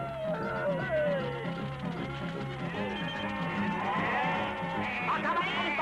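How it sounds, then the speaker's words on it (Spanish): Sheep bleating in a Mortadelo y Filemón cartoon, a continuous flock of wavering bleats layered over one another, loud and close, with no talk. "¡Déjelas, Mortadelo, que son ovejas!"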